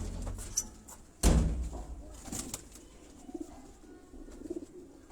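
A Sialkoti breed pigeon coos softly at close range amid a busy pigeon gathering, with a sharp slam-like thump and shuffling noises around it.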